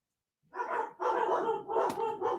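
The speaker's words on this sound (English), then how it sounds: "Can y'all hear them dogs? Boy, they're going crazy." Several dogs barking excitedly at home, loud close bursts of overlapping barks starting after a short silence and continuing in three or four rapid clusters.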